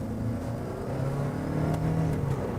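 A 2024 Toyota RAV4 Prime plug-in hybrid in hybrid sport mode accelerates, its engine and motor giving a steady, rising drone heard from inside the cabin, with no talk over it.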